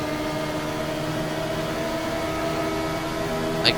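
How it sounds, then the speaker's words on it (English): Engine drone of a 1975 Formula One car running close behind in the Automobilista racing game at the Italian Grand Prix, a steady tonal hum held evenly throughout, fairly loud and continuous with no voices. "I can hear that car behind us."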